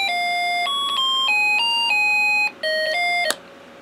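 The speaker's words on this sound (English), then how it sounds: "we hear the music IC start up and hear it out of the speaker" A simple electronic beeping melody from a Snap Circuits music IC plays through a small speaker, a sequence of pure tones stepping up and down, ending with a short click.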